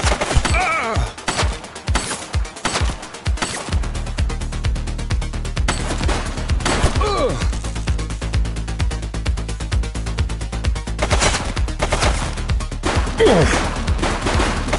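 Rapid bursts of gunfire in The Precinct police video game crackle in dense volleys, with sharp close shots and sustained automatic fire over a low rumble, and brief shouted voices.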